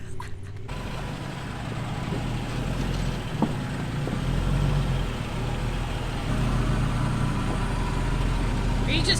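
Hemi-powered Jeep crawling in first gear on an Oregon off-road trail, a steady low engine idle rumble with faint mechanical clatter, while people talk over it.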